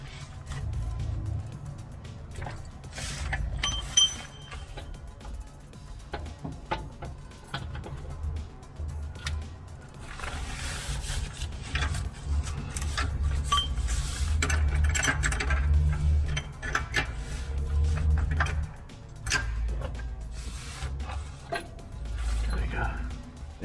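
A wrench works loose the engine mount bolts on a Toyota Hiace 100 KZH106 with a 1KZ-TE engine and A340F transmission, giving scattered metallic clicks and clanks over a steady low rumble.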